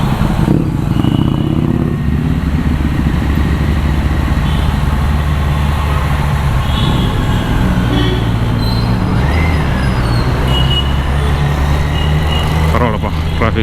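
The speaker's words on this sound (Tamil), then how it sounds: "மூவிங் டிராஃபிக் தான்." Traffic moves around a motorcycle on a casual city ride, a steady loud engine and road rumble with passing vehicles and a brief brake hiss, people talking over it throughout.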